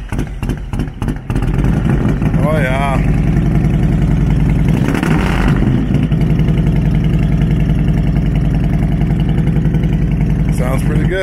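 A 1997 Harley-Davidson Road King motorcycle engine runs close by with a loud, steady, lumpy idle and a brief rev in the middle, with a few sharp knocks at the start.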